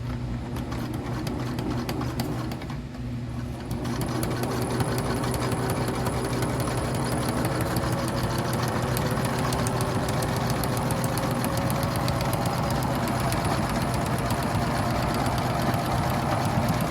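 A sewing machine stitches fabric for a homemade rock sack, running in a steady continuous whirring drone close up, with a brief dip near the start before it carries on evenly throughout.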